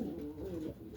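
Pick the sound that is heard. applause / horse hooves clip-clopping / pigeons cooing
pigeons cooing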